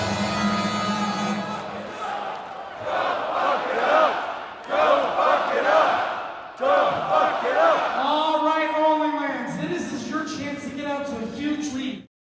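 A game show crowd breaks into loud, rhythmic group chanting and shouting after a contestant's choice is revealed as a DFIU double, the massed voices surging and falling in waves over several seconds.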